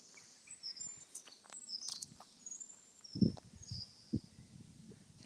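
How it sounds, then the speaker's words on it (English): Birds chirp and twitter faintly outdoors during an evening walk, with scattered high calls over quiet background and a few soft thumps like footsteps. "Yes, you can hear all the birds."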